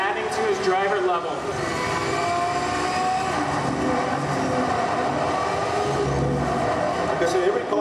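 Race car engine from the Need for Speed Shift video game, a steady droning motor with shifting pitch, heard fairly quietly beneath someone talking the whole time.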